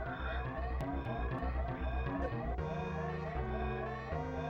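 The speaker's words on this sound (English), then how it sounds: "And the dulcet tones of that low health alarm for everybody." A repeating low health alarm beeps continuously in Super Metroid, layered over steady game music and effects, loud and sustained throughout without any speech.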